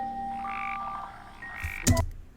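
Lumpy-looking toads croak in an anime episode, a couple of tonal calls close by, ending in a sharper burst of noise, with faint background ambience and no talking.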